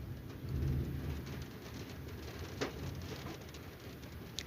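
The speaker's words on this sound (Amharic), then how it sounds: "ዝናብ እየጣለ ነው፣ ኃይለኛ ንፋስ አለ።" Steady rain falls with strong wind outdoors, a dense continuous hiss and rush holding at an even level throughout, with no talking heard.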